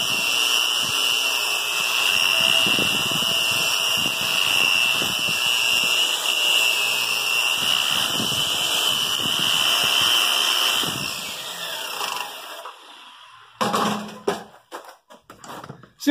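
A table saw is switched on and runs with a loud, steady whine and broadband roar for about twelve seconds, then spins down with a few scattered clunks and knocks.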